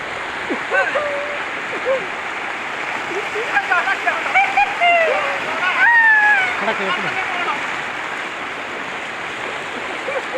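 Floodwater rushes steadily through a flooded area around shops, a continuous broad roar with people talking over it at intervals.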